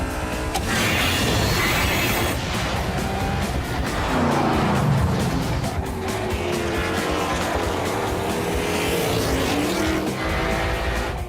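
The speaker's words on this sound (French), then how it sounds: "Faites place à la V8." A V8 car engine revs loud and close, then drives off with rising and falling engine tones and some tire noise throughout.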